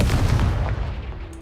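A Confringo spell blasts off in a Harry Potter video game, a loud booming burst of gunfire-like crackle with a short dull rumble that trails away.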